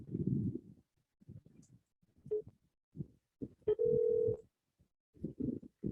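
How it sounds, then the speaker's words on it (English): Telephone dialing tones from a software call placed through a contact-management program, with a sustained steady tone and short bursts of beeps alternating with brief gaps, loud and close. "that was actually dialing right away"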